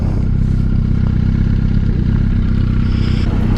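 A low, rumbling motorcycle engine runs loud and close, its steady throb carrying a rough clatter the whole time.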